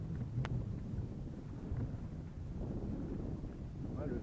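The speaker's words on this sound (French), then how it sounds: "Ouais, le vent est steady." Wind while sailing a Catalina 22 sailboat on San Francisco Bay: a steady low rumbling whoosh buffeting the microphone throughout, with small gusty swells and no clear voices.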